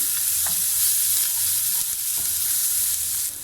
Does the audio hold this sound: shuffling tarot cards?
no